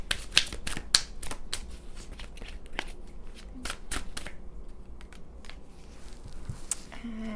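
Tarot cards being shuffled close by, a dense run of crisp riffling flutters and sharp card snaps in repeated bursts, fairly loud.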